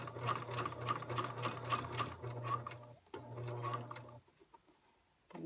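Up close, a sewing machine stitches a seam on a project bag, running in a steady rapid hum with needle ticking, pausing briefly partway through, then stopping near the end, with no talk.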